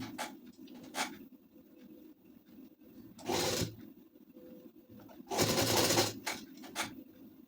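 Sewing machine stitching a sleeve with its ironed plate on a ladies suit, short bursts of rapid whirring separated by quiet pauses and faint handling rustle.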